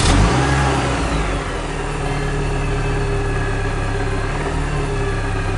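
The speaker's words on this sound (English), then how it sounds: "Now start the car." A car engine starts and then accelerates, a loud continuous engine roar with rising revs that settles into a steady drone.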